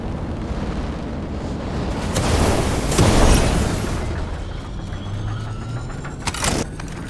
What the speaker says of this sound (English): Getting shot at from behind.